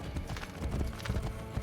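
Quick rhythmic hoofbeats of a galloping horse in Assassin's Creed Brotherhood, soft and fairly distant, thudding in a steady repeating pattern.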